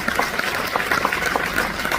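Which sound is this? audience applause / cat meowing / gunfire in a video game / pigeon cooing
audience applause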